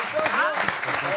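TV studio audience applauding after a football quiz answer, a brief burst of clapping mixed with a host's voice speaking over it.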